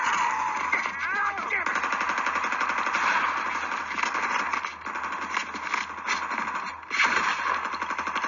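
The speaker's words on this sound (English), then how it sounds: "Everything was quiet until gunfire erupted." Sustained bursts of rapid gunfire at a speakeasy rattle continuously, loud and dense, with brief pauses between volleys and no talking.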